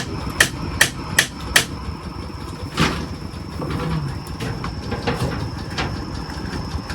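Nails are being hammered: four quick, sharp blows in a steady rhythm, then a pause and a looser run of softer strikes over a low background hum.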